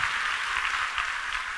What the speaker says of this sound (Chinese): 我哋鼓掌多謝神啊